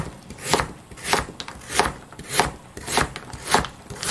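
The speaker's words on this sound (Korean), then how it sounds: "무는 300g 정도. 먹기 좋은 크기로 썰면 됩니다." Radish cut into bite-size pieces with a knife, about 300 g of it, giving a steady rhythm of firm chops on a board, roughly two strokes per second, close and clear.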